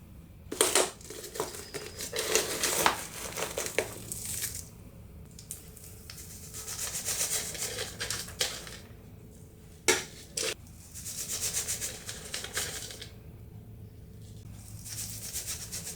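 Gritty succulent substrate mix is poured and scraped into a mini cacti garden, giving several crunchy, rustling bursts separated by quiet gaps, close and fairly soft.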